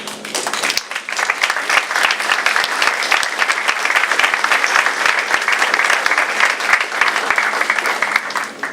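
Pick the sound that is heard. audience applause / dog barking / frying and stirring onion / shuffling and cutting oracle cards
audience applause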